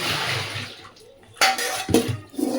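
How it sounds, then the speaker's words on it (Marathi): Water used for washing leafy vegetables is poured out in short gushes, a broad splash followed by quieter trickles and another pour, with faint clatter of a vessel. "मग हे पाणी मी आता फेकून देत आहे"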